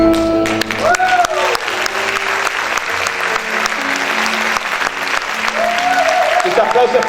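A church congregation applauds steadily and loudly for several seconds, a full wash of clapping with sustained keyboard tones underneath and a voice speaking over it.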